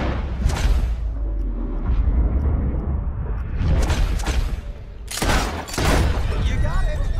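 Gunshots aimed at bottles in Red Dead Redemption 2 ring out as a few loud sharp cracks and a quick volley of shots, with a voice talking between them.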